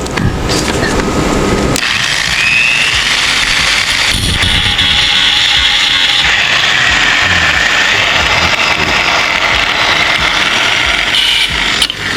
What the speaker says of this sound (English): So we're going to take these welding marks off to make it flat.